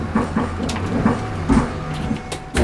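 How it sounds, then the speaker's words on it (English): Simulated MAN DN95 diesel bus in OMSI 2 idling and rumbling steadily, with a low engine drone and a few clicking, rattling interior noises over it, close and moderately loud. "Oh, it's a lovely sounding bus."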